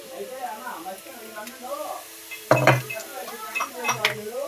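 Oil goes into a pan on the stove, and a sharp sizzle bursts out midway, with metal clinks and scraping of utensils against the pan, close and moderately loud amid quiet kitchen background.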